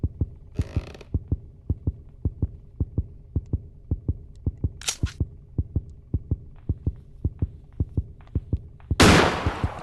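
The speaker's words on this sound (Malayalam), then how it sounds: "ഇതെന്താ ഈ ഹേർട്ട് ബീറ്റിന്റെ സൗണ്ട് കേൾക്കണേ?" A steady heartbeat thumps at a regular, even pace in the Granny horror video game, punctuated by a few short hissing bursts and a louder noisy blast near the end.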